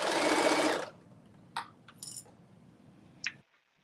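A sewing machine runs for under a second of fast top stitching, then stops, followed by a few sharp metallic clinks and taps.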